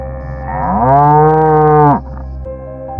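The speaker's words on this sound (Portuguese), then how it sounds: "eu ouvi todas as vacas começarem a mugir ao mesmo tempo" Cattle moo together: one loud, close, drawn-out moo rises and holds for over a second before cutting off, over a low steady background.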